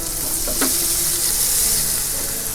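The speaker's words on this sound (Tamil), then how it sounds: "அந்த ஸ்ப்ரிங் ஆனியனை சேர்த்துக்கிறேன் கொஞ்சமாக" Spring onion sizzles steadily in a hot pan while a Tamil home cook prepares dragon chicken, a continuous close frying hiss with a brief stir clatter early on and no voices.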